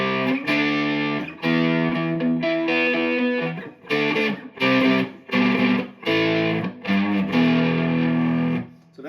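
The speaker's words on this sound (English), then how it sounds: "I can have a go from a slight overdrive to a full distortion just on my guitar" Heavily distorted electric guitar playing sustained chords in bursts with short gaps, loud and saturated, with no voices.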